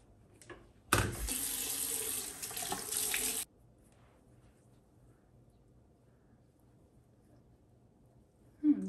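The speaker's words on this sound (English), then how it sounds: "So I'm gonna be using this to wash my face." A bathroom tap runs for about two and a half seconds during face washing, a close, loud, steady rush of water that starts abruptly and stops, followed by quiet.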